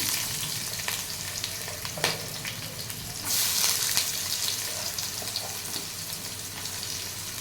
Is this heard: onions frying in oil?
yes